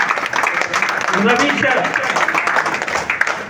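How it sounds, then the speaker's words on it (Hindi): Audience at a public gathering clapping in a loose, scattered round of applause that swells slightly then thins, with someone talking over it. "ताली बजाइए ना भैया, थोड़ा सा आप अपने लिए बजाइए ना।"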